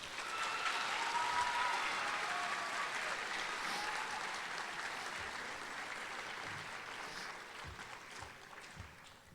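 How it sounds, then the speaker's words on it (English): Sustained applause from the audience at a JROTC annual awards ceremony honoring Delta Company, a broad steady wash of clapping that stays strong throughout and eases slightly toward the end. "please join me in a round of applause for Delta Company"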